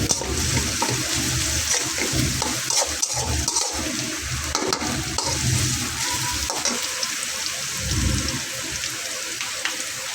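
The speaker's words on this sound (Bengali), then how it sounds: "লবণ দিলে পেঁয়াজটা একটু দ্রুত ভাজা হবে" Onions and a bay leaf fry in hot oil, a steady watery sizzle with bursts of stirring and spatter, moderately loud and without speech.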